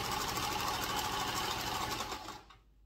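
A sewing machine stitching a bedspread hem, a fast, steady mechanical whir that runs close and continuous, then slows and stops near the end.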